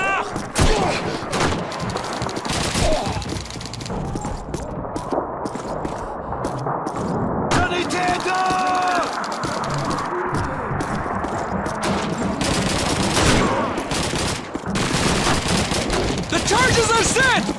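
Sustained volleys of rifle and machine-gun fire with clanging impacts and booms during a demolition mission in the WWII shooter Call of Duty 2, loud and continuous, with voices shouting amid the battle.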